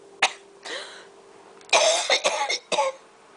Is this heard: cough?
yes